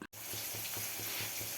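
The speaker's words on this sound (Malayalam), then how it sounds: "ഇപ്പം നമുക്ക് ഇതൊന്ന് വറുത്തെടുക്കണം കറി വെച്ചെടുക്കണം" Threadfin bream frying in a pan gives a continuous hiss, with a faint low pulsing underneath and a brief dip at the start.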